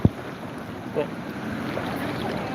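Strong river current rushing over a weir, a steady broad wash of water noise with a few small splashes and light wind buffeting on the microphone.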